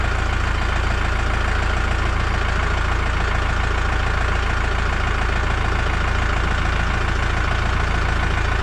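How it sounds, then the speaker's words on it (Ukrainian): A 50 hp tractor engine idles loudly and close by while lifting a mounted 2.6 m KPN cultivator, a steady, unbroken low rumble with no revving and no speech. "Підняв легко на холостих обертах, що бачите, я ж тут там ніхто не газує."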